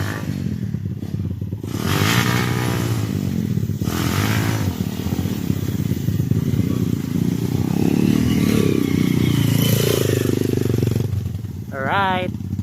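Enduro motorcycle riding a dirt trail in Palawan, with a steady engine drone and clattering, scraping ride noise throughout, a brief whine near the end, and people talking over it.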